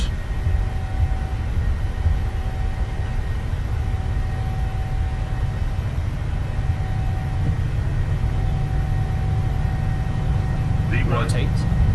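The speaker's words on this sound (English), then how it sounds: "Takeoff thrust set. Indications normal." Steady loud roar of a Boeing 737-800 BCF freighter's jet engines at takeoff thrust on the runway, heard from inside the aircraft, constant broadband rumble with a faint tonal whine, with brief voices near the end.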